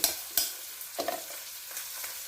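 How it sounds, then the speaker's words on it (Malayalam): A spoon stirs fish curry masala heating in a pan, making soft scraping strokes against the pan over a faint sizzle, a few sharper scrapes standing out, close and quiet with no talking. "ഇത് കണ്ടിന്യൂസ് ഇളക്കിക്കൊണ്ടിരിക്കണം"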